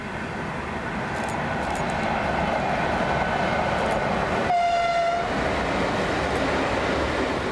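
A Steamrail Victoria steam train, the Eureka Express, rumbles loudly and continuously close by at a passing loop, with a brief whistle partway through and no voices.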